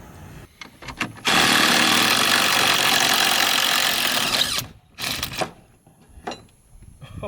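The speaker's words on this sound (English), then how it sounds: "we should be able to speed them right out of there with that same impact driver" Impact driver spinning out lag bolts, a loud sustained rattling burst of about three seconds followed by shorter bursts and clanks, close up with no talk.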